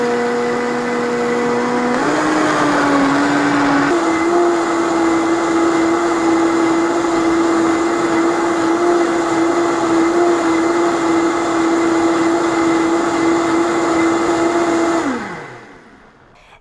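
A blender purees hot soup at high speed, a loud continuous motor whine with a slight pitch shift early on, then spins down and stops near the end.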